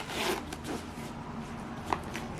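A zipper runs closed around a slim Galen Leather folio with no pens inside, a steady close rasp with a few uneven pulls across roughly two seconds and no talking.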